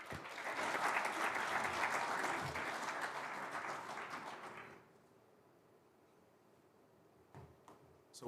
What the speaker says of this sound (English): A round of applause for Ambassador.